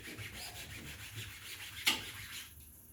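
A hand rubs the back side of a screen-printing screen, giving a close, steady dry rubbing broken by one sharp tap midway before the sound thins out.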